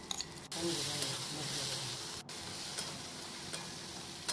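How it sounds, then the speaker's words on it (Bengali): Ginger-garlic paste sizzles loudly in a pan of spice masala for a Bengali pangas fish curry, a dense steady frying hiss broken by a couple of short stirring gaps. "তো এটাই এর উপর দিয়ে দিচ্ছি"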